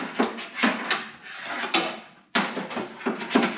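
A 10 mm bolt drops into a 2007–2013 GM truck door, clattering and rattling inside the door shell in several sharp knocks, close and loud, with a brief gap before more clunking.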